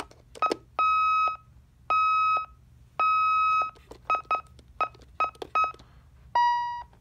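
Keypad beeps from a first-generation Ademco 6160 alarm keypad at button presses: a mix of short chirps and longer held tones in an irregular sequence, clear and close over a low background hum.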